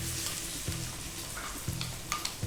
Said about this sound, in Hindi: 2 प्याज चॉप किए हुए डाल दें इसमें,